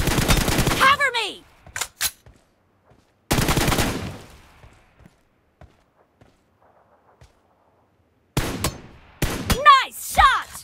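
Gunfire in a shooting video game: sharp, loud bursts and single cracks separated by long quiet stretches, with a voice talking over some of the shots.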